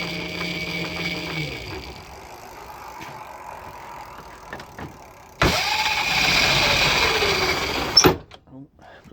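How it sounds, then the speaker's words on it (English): A 24 volt electric scooter motor on a Razor e300 build, overvolted on a 36 volt pack, kicks in abruptly and whirs loudly for a few seconds with a rising then falling whine, then cuts out with clicks. "Got some kick, that little motor."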